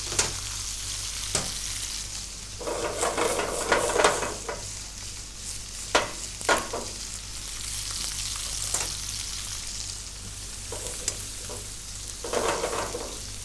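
Onions frying in a pan beside swordfish, giving a continuous sizzle over a low hum, with intermittent spatula scrapes and sharp clicks spread through.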